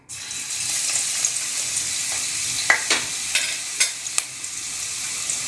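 Crushed ginger frying in hot oil for a crab masala gravy: an abrupt onset into a steady, bright sizzle with a few sharp pops and spatula clicks, close and continuous, no talking.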